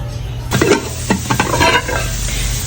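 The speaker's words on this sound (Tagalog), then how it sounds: "Tagisa ko na yung kamatis, sibuyas, bawang at luya." Tomato, onion, garlic and ginger sauté in a hot pan, a loud sizzle starting abruptly with scraping stirs and clinks of a utensil against the pan, no talking.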